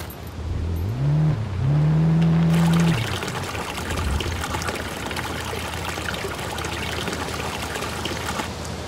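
Fuel pouring into a canister in the video game SCUM, a steady trickling liquid stream running several seconds after a brief engine-like hum at the start.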